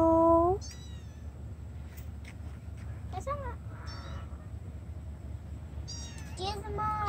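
Tiny baby kitten mewing outdoors downtown, a loud close cry at the start followed by several fainter, shorter mews spread across the clip, with a crow cawing and low rumbling background noise.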